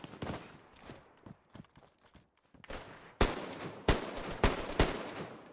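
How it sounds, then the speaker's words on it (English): Gunfire in the video game DayZ, several sharp loud shots at irregular intervals, the last few closer and heavier, with scattered footstep-like clicks and rustling in between. "I'm officially being shot at, guys, and I don't like it"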